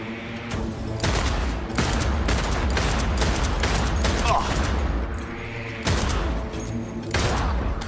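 Sustained automatic gunfire in the video game Cyberpunk 2077, loud rapid bursts packed densely across the whole stretch with brief gaps, heavy and close throughout.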